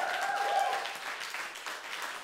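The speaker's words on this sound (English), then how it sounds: "can we have a sustained amount of applause for Darla Jade" Live comedy show audience giving sustained applause for a performer named Darla Jade, a steady wash of many hands clapping at moderate distance.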